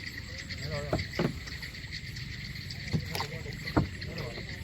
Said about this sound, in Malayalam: സിംഗിള് കൈ കൊണ്ടാണ് ഞാൻ തുഴയുന്ന വെള്ളം